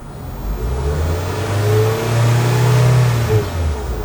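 A nearby 2014 Honda HR-V 1.8 S engine idles with a low, smooth rumble, rising in a couple of smooth revs before settling back down.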